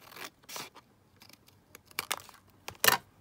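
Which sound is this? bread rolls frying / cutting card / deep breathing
cutting card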